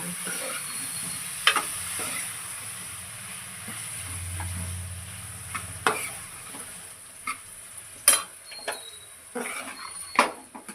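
A vegetarian paneer 'egg' fry is stirred with onions in a frying pan: steady scraping and mixing over a soft sizzle, with a few sharp utensil clinks toward the end.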